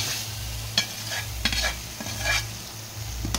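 Mung beans and chicken wings sautéed in a pan, a close, gentle sizzle with a low hum beneath and several sharp scrapes and taps of a spoon stirring against the pan, with no talking.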